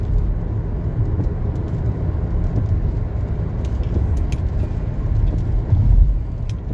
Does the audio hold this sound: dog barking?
no